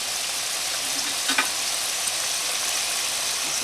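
Potatoes fry in hot cooking oil with a steady, bright sizzle and crackle that holds evenly throughout, close and alone, with a couple of brief stirring taps partway through.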